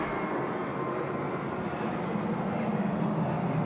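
A plane flies at night near Sydney Airport on a flight bound for Darwin, a steady broadband roar of jet engine noise, continuous and moderately loud with no voices.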